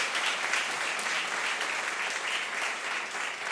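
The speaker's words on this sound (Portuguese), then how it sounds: "Você pode dar um aplauso ao Senhor por isso?" A church congregation applauds steadily during a worship service, an even, continuous patter of many hands at moderate distance, fairly quiet and without breaks.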